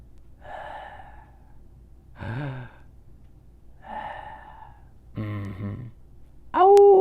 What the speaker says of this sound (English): Let's all take 3 big breaths and think of 3 good things.